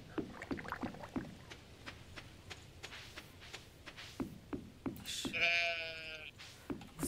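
A sheep bleats once in the video game Stardew Valley, a loud wavering call midway through, among soft footstep taps and quiet farm ambience.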